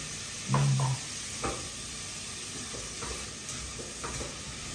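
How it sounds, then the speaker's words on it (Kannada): Vegetables sauté in ghee and oil with a steady broad sizzle, interrupted by a few soft stirring scrapes and knocks in the pan. No one speaks. "ಈ ತರಕಾರಿಯನ್ನು ತುಪ್ಪ ಮತ್ತು ಎಣ್ಣೆ ಹಾಕಿರ್ತೀವಲ್ಲ ಅದರಲ್ಲಿ ಸ್ವಲ್ಪ ಬಾಡಿಸ್ಕೋಬೇಕು"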